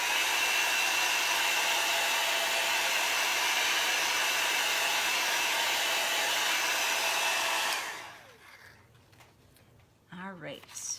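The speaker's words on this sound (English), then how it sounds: "let me just give this just a pop of heat to make sure that it's dry" A heat tool blows hot air to dry chalk paste on a craft board, a loud steady whooshing roar that stops abruptly near the end, followed by quiet rustling and a faint voice.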